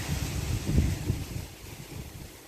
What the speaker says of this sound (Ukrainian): Не стихає вітер зовсім.